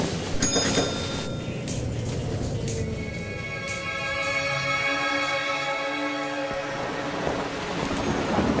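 A thunderstorm in an audiobook scene, with steady heavy rain and deep rolling thunder that swells and fades, and loud, continuous ambience throughout.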